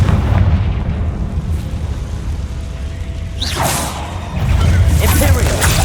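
A Confringo explosive spell cast in the Hogwarts Legacy video game gives loud whooshes and booming blasts over a rumbling background, with a sharp bursting swish in the middle and another surge near the end.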